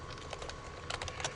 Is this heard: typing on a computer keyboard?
yes